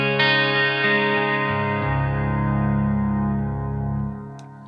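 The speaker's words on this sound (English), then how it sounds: "So now I've put in some reverb on my board with the Big Sky." An electric guitar rings out through a Big Sky reverb pedal with no twin tracker engaged: a single sustained chord swells into a lower held note, then fades into a long, shimmering reverb tail.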